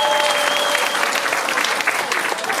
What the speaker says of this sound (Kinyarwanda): Mukomere amashyi menshi cyane mu gihugu.